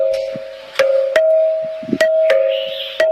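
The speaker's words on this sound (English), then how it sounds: "this is the combination of the temple bell and the school bell to create the modern" Modern doorbell built from a blend of temple bell and school bell tones, ringing in a series of sharp repeated strikes over a steady sustained hum, loud and close with no talk.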